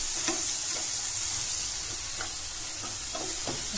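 Dried fenugreek leaves, lightly crushed, fry in a pan for dhaba-style baingan bharta, giving a soft continuous sizzle with a few faint stirring scrapes, quiet and without talk.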